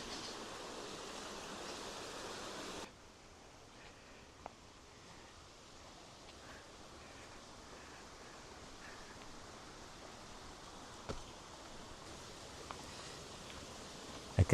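Steady broadband rush of flowing water from a stream in Karura Forest, Kenya, nearby, continuous and moderately loud, with occasional faint clicks and rustles; no talking.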